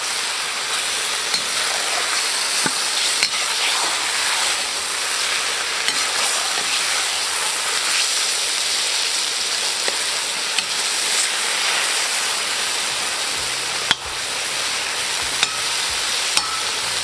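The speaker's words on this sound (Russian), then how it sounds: "И продолжаем жарить" Loud, continuous sizzling of beef frying in hot oil in a pot for plov, a dense crackling hiss with occasional sharp pops and a utensil tap, no voices.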